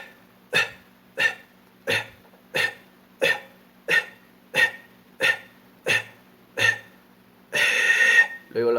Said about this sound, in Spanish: Pero primero vamos a dominar lo que es la tos.